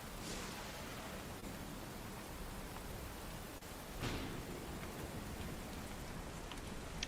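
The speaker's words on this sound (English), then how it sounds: "It does rain a lot around here." Steady rain ambience for a tabletop role-playing podcast, an even, close wash of falling rain that never lets up, with a slightly heavier swell around the middle and no voices.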